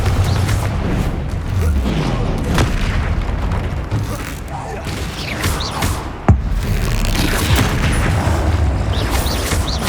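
The Confringo fire-blast spell goes off in Hogwarts Legacy amid dense combat sound effects, with rumbling booms throughout and one sharp, loud burst standing out partway through.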